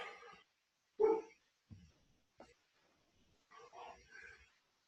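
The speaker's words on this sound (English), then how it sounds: "Ignore the barking of the space dog if you hear that in the background." A dog barks a few times in the background indoors, giving short sharp yaps separated by quiet pauses, with a final cluster of barks near the end.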